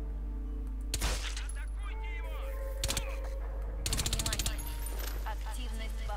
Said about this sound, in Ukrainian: тому ми використаємо нашу снайперську гвинтівку